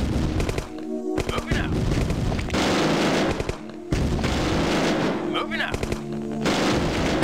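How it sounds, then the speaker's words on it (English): Guard towers firing in the video game Command & Conquer pound out heavy, booming shots in repeated bursts, loud and close, with metallic clanks and sustained rumbling between volleys over a busy battle soundscape. "God, those guard towers sound meaty"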